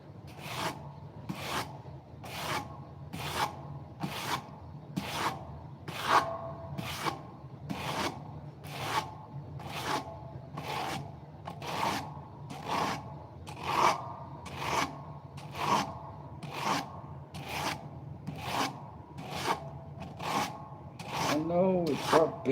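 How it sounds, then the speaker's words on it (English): A dull blade edge is rubbed against sandpaper in steady back-and-forth strokes, a close, evenly paced dry rasping that repeats about once a second. "Let us go to the old sandpaper."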